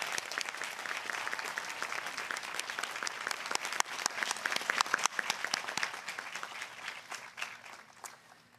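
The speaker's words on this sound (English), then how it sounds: "let's applaud these alumni." An audience at a Pacific University commencement ceremony applauds graduating alumni, dense continuous clapping that swells in the middle and tapers off toward the end.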